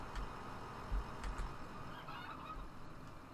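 Poultry on a farm in Farming Simulator 15 making repeated honking, clucking calls, several short nasal bursts scattered over a few seconds at moderate distance against low background noise.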